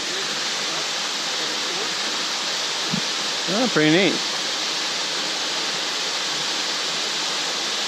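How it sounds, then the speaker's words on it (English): Second waterfall on a trail at Ricketts Glen beneath tall cliffs, a steady broadband roar of falling water filling the whole span, with a brief voice speaking over it midway. "Here's our second waterfall."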